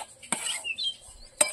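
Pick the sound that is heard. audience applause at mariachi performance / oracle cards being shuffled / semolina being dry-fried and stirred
semolina being dry-fried and stirred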